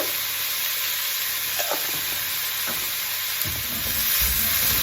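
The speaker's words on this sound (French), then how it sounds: "Ensuite, avec ma planche souple, je peux verser mes cubes de potimarron." Red kuri squash (potimarron) cubes with thyme fry in a hot pan, giving a steady close sizzle that swells near the end as more cubes land in the oil.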